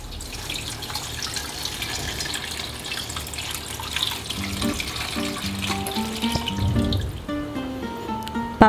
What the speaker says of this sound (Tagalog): Ngayon, lagyan natin ng tubig.